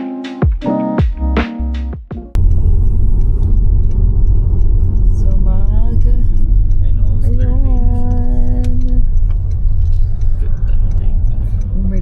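A car drives along a road in Canada near a lake, with steady low engine and tire rumble after a loud opening burst of voices; someone speaks at the start and faint tones rise and fall over the drive.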